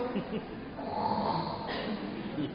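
A professor snores softly in a seminar room, a low, steady breathy rasp heard faintly and close, with no other sounds.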